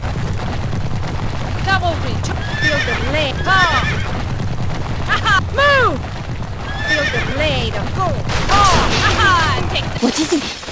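Horses in the video game Kingdom Under Fire Heroes neigh and whinny repeatedly over a dense battle din of hooves, clashing and rumbling, with voices shouting now and then.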